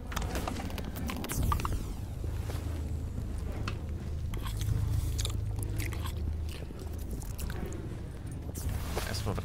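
A character eating food in the video game S.T.A.L.K.E.R. GAMMA, with crunchy chewing and biting noises repeating over a constant low in-game background rumble.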